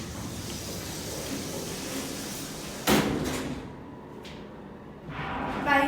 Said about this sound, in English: These doors are so slow.